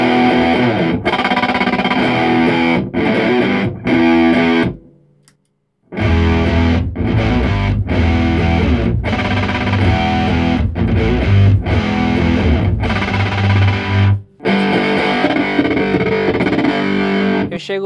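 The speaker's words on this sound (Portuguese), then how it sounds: "Enquanto eu tô com o pé, ele corta, picota o som." A distorted electric guitar plays through an effect pedal whose momentary function chops the sound, so loud riffs are cut into abrupt bursts with sharp gaps, including one longer dropout.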